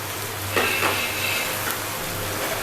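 Onion and ginger paste stirred in a frying pan, with a couple of short scraping strokes and a soft, steady sizzle underneath, close and fairly quiet.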